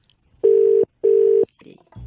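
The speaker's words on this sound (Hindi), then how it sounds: "घंटी बज रही है भाई साहब।" A telephone ringing through on a prank call, heard over the line as two loud, evenly spaced buzzing ring tones, with a little faint noise afterward.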